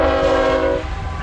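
A freight train's horn blasts loud and close in Otero County, New Mexico, a steady harmonic chord that holds and then trails off as the train passes, with no talk over it.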